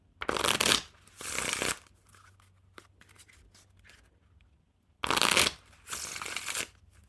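Ellusionist E Deck playing cards, black edition, riffled and shuffled in four crisp bursts, two close together at the start and two more after a quiet pause, each a dense flutter of cards snapping near and clear.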